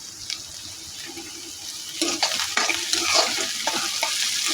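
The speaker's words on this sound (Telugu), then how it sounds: "బాగా కలుపుకోవాలి." An onion and egg mixture seasoned with cumin sizzles in a pan while a spoon stirs it, giving scraping, clattering strokes over a steady frying hiss that grows busier halfway through.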